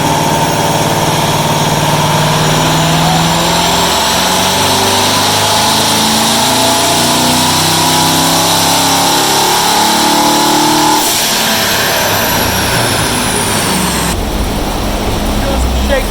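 Twin-turbo Corvette C7 race car engine on shakedown passes, a loud sustained roar with rising and falling revs and a sharp change in tone near the end; no voices.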